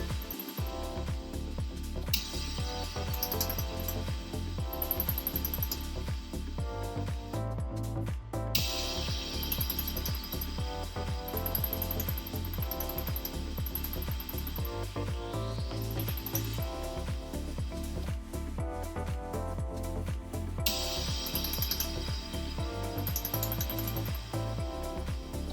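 Orion LZR laser welder fuses a loop onto a dental RPD post in a lab, giving repeated short sharp zaps and clicks over a steady hum of nearby equipment, close and fairly loud.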